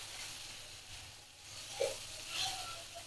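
Turmeric and chopped vegetables for poha are stirred in a frying pan, with a soft steady sizzle and a brief scrape of the spoon against the pan partway through.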